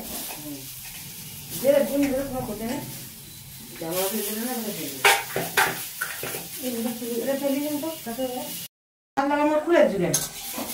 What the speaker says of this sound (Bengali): যে আলু আর পেঁপেগুলো ছিল সেগুলো একটু নেড়ে নেব